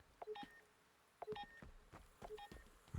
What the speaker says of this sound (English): I hear something beeping.